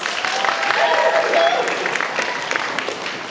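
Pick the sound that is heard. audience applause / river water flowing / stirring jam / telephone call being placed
audience applause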